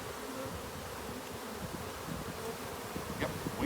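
Honeybees crowd into their hive on a regenerative farm, making a dense, steady buzzing swarm sound that holds close and even throughout, with no voices.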